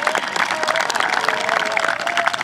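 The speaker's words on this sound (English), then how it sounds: "Let's give them a big round of applause for being here today." Crowd applause at a Shore Conference high school football game between Raritan and Holmdel: dense, steady clapping with crowd noise that holds evenly for the whole stretch and sounds fairly close.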